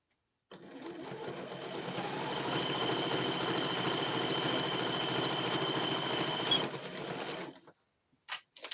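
A sewing machine stitches fabric bowl cozies in one steady, close run of fast rapid-fire clatter lasting several seconds, then stops, followed by a couple of brief clicks.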